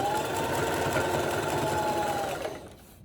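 A sewing machine whirs steadily, stitching fabric trim with a continuous close hum, then slows and stops near the end.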